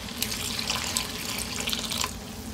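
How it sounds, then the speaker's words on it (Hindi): Water pours steadily into a pan of fried chana dal for a dhaba-style dal, a continuous splashing stream close by and running alone for the whole stretch. "अब इसके अंदर थोड़ा सा पानी ऐड करूँगी"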